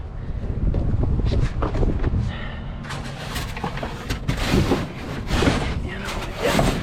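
Wind buffets the microphone outdoors at a scrapyard, a loud, continuous low rumble with gusts and rustling layered over it, while a voice is briefly heard in the background.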